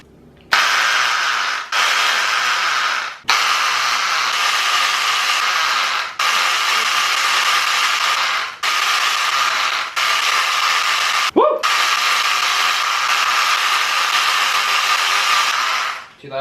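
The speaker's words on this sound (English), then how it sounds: "one thing we could do is we could use a screwdriver with something stuck to it" An electric screwdriver fitted with an attachment stirs mead in a brew vessel, giving a loud, steady whirring grind in several long bursts separated by brief pauses, close to the listener with no voices.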